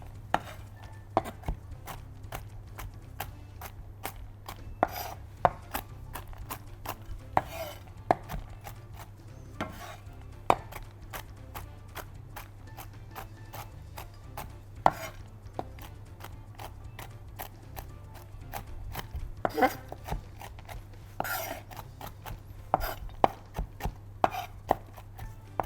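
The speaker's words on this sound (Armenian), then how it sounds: "մանրացնում ենք մի քիչ, որ ավելի միջուկը" A knife finely chopping peppers on a board, steady rhythmic taps repeating throughout at close range, with no talking.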